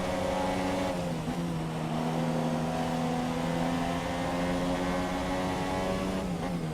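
Formula 1 cars, a Renault and a McLaren, racing at Suzuka in F1 2017 on intermediate tyres, with a steady, high engine whine holding one pitch, loud and continuous throughout and without talk.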